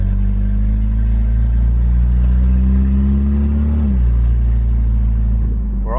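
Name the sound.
car engine with loud exhaust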